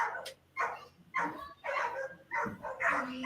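Several dogs bark outdoors in short, irregular bursts, mixing deep woofs with higher yips and a whimper, fairly close and loud against a quiet night background.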